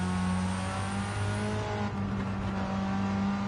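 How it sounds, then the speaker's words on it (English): A turbocharged car engine in the racing game Gran Turismo 7 holds a steady loud drone with whirring turbo tones, a slight dip midway, no talk over it. "I do like the sound of the turbo"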